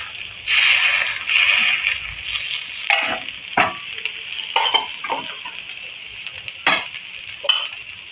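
Cucumber ghavan batter, a Konkani dish, cooks on a tava with just a little oil around the sides, giving a soft sizzle punctuated by scattered clinks and scrapes of a utensil against the pan.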